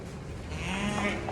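Sheep bleat inside a barn, one short call rising then a second overlapping bleat, fairly close and clear with no talking.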